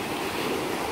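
Choppy ocean waves near a shore, a dense, continuous broadband wash of surf and churning water, loud and close with no pauses and no voices.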